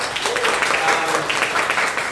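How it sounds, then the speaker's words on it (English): An audience at a Nu Skin opportunity-sharing event claps steadily, a dense even patter of applause heard at moderate distance for the whole stretch. "Please give them a round of applause."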